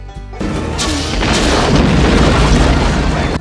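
A town blown apart by gunfire in the Wild Wild West film: a heavy boom opens into a loud, dense, continuous roar of close explosions and rumbling debris, with no talking.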